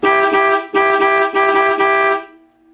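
A 1964 Dodge Polara 500's low-tone horn blares in four long, loud honks with brief gaps, ending in a fading tail.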